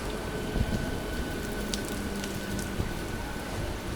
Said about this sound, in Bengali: বাহ, বিশাল বৃষ্টি বাইরে।